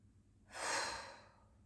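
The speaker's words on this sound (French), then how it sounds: "Expire en soufflant profondément." A single deep, slow exhale blown out through the mouth during a relaxation breathing exercise, a soft airy whoosh that swells and fades over about a second in a quiet room.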